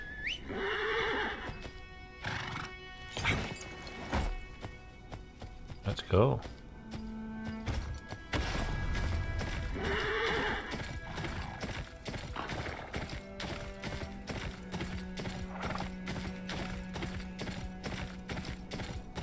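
Horse neighs ring out twice among clip-clopping hooves and game-like effects in the video game Game of Thrones: Kingsroad, while a person talks briefly over the sounds.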